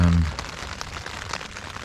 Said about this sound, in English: So as you can hear, the rain's come in.